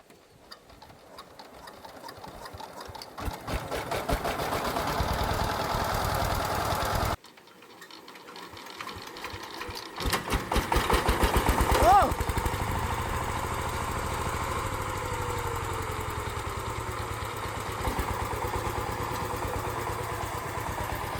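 Farm tractor engine starting up and running steadily in a village field before ploughing, a loud continuous mechanical chug that cuts out briefly and then restarts, holding a steady drone.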